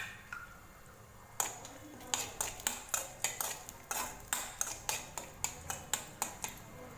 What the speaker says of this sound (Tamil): லோ ஃப்ளேம்லேயே வச்சு இதை வறுத்துக்கலாம் ஃப்ரெண்ட்ஸ்.